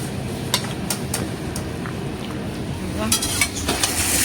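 Chicken pieces, large cut, stir-fried in ghee in a pan, with steady sizzling and a few scraping stirs and clinks of the spatula against the metal.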